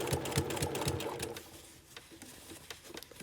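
A sewing machine stitches a casual shirt in a fast, rhythmic run that stops partway, followed by faint clicks and handling sounds, close and moderately quiet.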